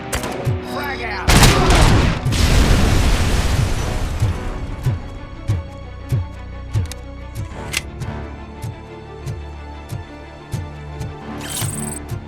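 A frag grenade in RoboCop: Rogue City bursts loud and close into a long rumbling blast, followed by a steady run of sharp, evenly spaced gunshots that goes on for several seconds.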